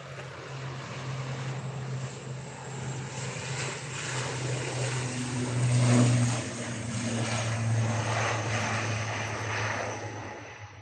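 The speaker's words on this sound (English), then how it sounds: "we've also got the Airbus A380 just coming over Stockport shortly" An Airbus A380 in Emirates Dubai livery climbs out from Manchester Airport, its engines a steady, moderately distant rumble with a low droning hum that swells briefly around the middle and then evens out.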